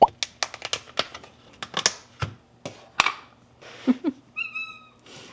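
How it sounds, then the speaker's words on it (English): Cats meow at feeding time while food is handled nearby, with repeated crinkling and clattering clicks and several short close meows, the last a clear rising cry. "And now we can feed the cats their lunch."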